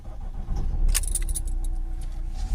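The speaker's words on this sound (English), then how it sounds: "Now we can actually start the vehicle up, take it for a little test drive." Keys jangle and a Ford Transit Custom 2.2 van engine turns over and catches, settling into a low idle rumble; close and brief.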